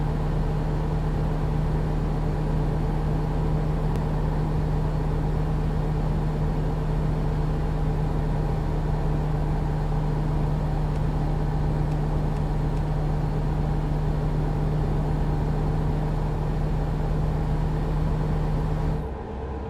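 A loud truck engine drones steadily in American Truck Simulator, with a constant low hum and a rumbling roar that stay even and unbroken as the truck drives along.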